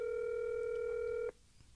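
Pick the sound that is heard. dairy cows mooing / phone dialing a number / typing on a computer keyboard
phone dialing a number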